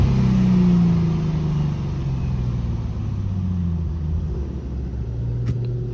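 An Infiniti G37 sedan's V6 on the highway gives a steady, loud low engine rumble, with a pitch that slides down early on as it downshifts. It runs alone with no talk.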